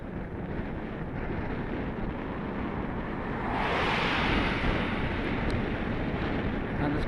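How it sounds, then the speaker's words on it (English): Steady wind rushing across the microphone while riding a Halfords Carrera e-bike, a broad continuous roar that swells noticeably louder about halfway through as headwind gusts build. "there's quite a wind actually in my face here"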